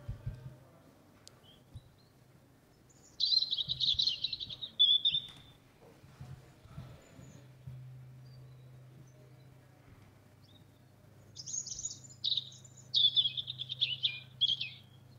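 A European robin sings high, fluting, warbling phrases in two bursts separated by a pause, over a faint low hum.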